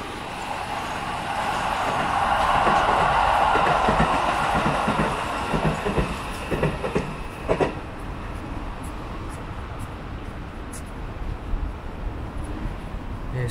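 A train rumbles past on its rails near a suburban station, swelling to a loud roar in the first half before fading away, with a few light clicks trailing off.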